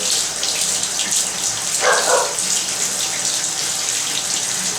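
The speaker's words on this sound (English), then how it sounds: "I take the pad and I actually rinse it and go over the floor one more time after I rinse it" Water runs steadily from a bathtub faucet as a cleaning mop pad is rinsed under it. The flow is close and constant, with a brief brighter splash partway through.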